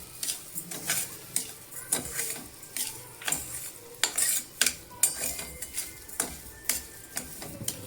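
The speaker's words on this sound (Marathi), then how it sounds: "साखर पण टाकायची आहे. मस्त असं मिक्स करून द्यायचं." Sugar being stirred into prasad with a spoon, giving steady close metallic clinks and scrapes against the bowl in an even rhythm of roughly one or two strokes per second, with no voices.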